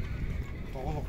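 A horse at a livestock horse market in Sokuluk, Chuy, gives a short neigh near the end, heard over people talking and the market's low background bustle.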